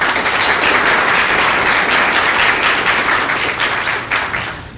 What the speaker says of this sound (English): I'd like to ask for another round of applause for both the presenters.